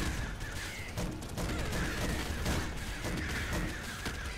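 Rapid, dense explosive gunfire from a Gatling Bazooka in the game Nuclear Throne Ultra Mod, a continuous stream of booming blasts with a rattling mechanical edge, loud and unbroken throughout.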